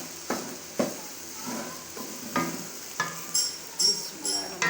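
Okra frying in a pan as red chili powder goes in, quiet sizzling under a series of rhythmic scraping stirs and light clinks of a utensil against the pan.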